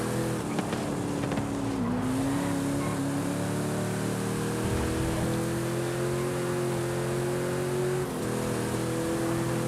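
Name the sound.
Mazda car engine pulling hard in Forza Horizon 5 video game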